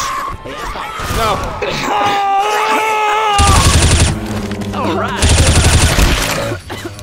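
Heavy automatic gunfire bursts from Left 4 Dead 2 come in two loud sustained volleys amid game noise and shouting voices.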